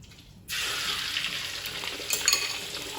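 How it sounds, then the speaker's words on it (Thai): A Thai omelette hits hot oil after a brief quiet moment, erupting into a loud, sustained sizzle and bubbling that continues to the end. "เจียวไข่ ไข่เจียวแม่ครับไข่เจียวแม่ทับ"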